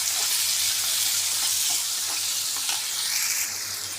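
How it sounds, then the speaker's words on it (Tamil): Chopped onion and tomato sauté in a pan as the base for pasta, with a loud continuous close sizzle and light stirring scrapes that ease slightly toward the end. "நல்லா வதக்கி எடுத்துக்கலாம்."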